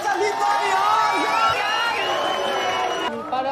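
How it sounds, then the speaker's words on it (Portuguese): Crowd cheering and shouting for a winner at a celebration, a dense, loud, continuous roar of voices and whoops that holds steady and then drops off near the end. "Palmas pra nossa vitoriosa!"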